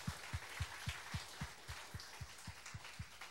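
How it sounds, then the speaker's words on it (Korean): A church congregation claps in thanks during a Sunday worship service, with soft rhythmic clapping about three to four claps per second, heard faintly against a quiet room. "하나님 앞에 감사 박수 올려드리십니다."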